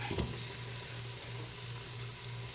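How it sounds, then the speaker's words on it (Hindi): Potatoes dropped into a hot frying pan for an egg and potato curry, a brief clatter then a steady close sizzle with a low hum underneath. "अब देखें मैं आलू डाल रही हूँ साथ"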